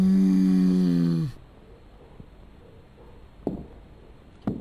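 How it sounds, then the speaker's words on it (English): A monster in the video game Stay Out Of The House breathes with a deep, rasping, droning groan for just over a second. It cuts off abruptly, leaving near-silence broken by a few soft thuds. "I can hear him breathing."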